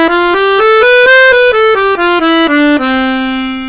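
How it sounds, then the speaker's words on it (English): Accordion played on the middle reed block alone, a clear melodic line of about a dozen sustained notes stepping up and then down, ending on a held tone, close and loud with no voices. "Now if I play the middle reed block only,"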